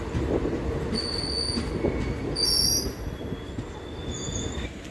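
The Deoghar–Howrah Mayurakshi Express rolls slowly into a station, steel wheels squealing shrilly over a low rumble of carriages, fairly loud and continuous.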